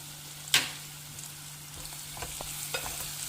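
Raw chana dal fries in a pan with salt and chili powder for a gongura sorrel dish. A soft continuous sizzle runs under occasional stirring scrapes, opened by one sharp clink of the utensil against the pan.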